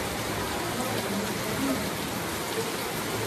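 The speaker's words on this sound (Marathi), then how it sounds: "एकदम धो पाऊस आहे." Heavy monsoon rain pours in Goa, a dense, loud, unbroken hiss of rainfall on surfaces that fills the whole stretch with no talk.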